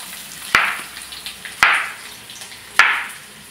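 Ingredients for a village-style cucumber chutney fry in a pan with a soft background sizzle. Three sharp, evenly spaced knocks each set off a brief burst of crackling.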